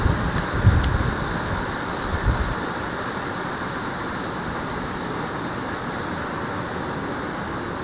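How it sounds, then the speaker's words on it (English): A garden water feature splashes in a continuous, even hiss of falling water, steady and fairly loud with no talk over it. "We can see the water feature."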